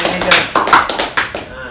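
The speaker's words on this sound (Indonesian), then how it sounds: "Tepuk tangan dulu." A few people clapping hands during a casual group conversation, a short run of separate close, sharp claps in quick succession with voices around them.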